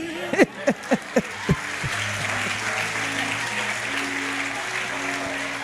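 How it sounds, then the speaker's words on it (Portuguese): A church congregation applauds during a sermon, a steady mass of clapping filling the hall, with a few sharp vocal exclamations at the start and a sustained tone lingering underneath. "Aplauda Jesus aí"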